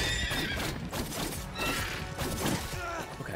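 A horse in Prince of Persia The Lost Crown gives a loud, drawn-out neigh, with hoof clatter and game effects mixed in, and no talk over it.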